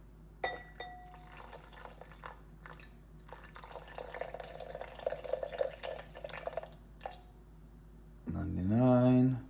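Water trickles and drips into a sourdough starter container on a kitchen scale, with intermittent splashes and clinks, ending in a louder steady pour-like rush.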